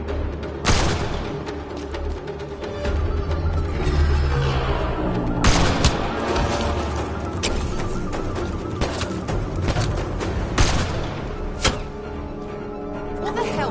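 Gunfire crackles in the Andromeda video game, repeated bursts and sharp loud shots layered over a dense battle bed of booms and music, with voices shouting in the mix.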